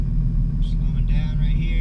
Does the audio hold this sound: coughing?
no